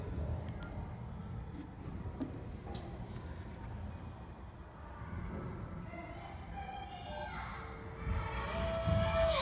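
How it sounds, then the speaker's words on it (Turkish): A mobile phone rings outside a box during a Faraday cage demonstration; tonal ringtone notes rise over a low background rumble in the second half, growing louder toward the end. "Gördüğünüz gibi telefon çalıyor."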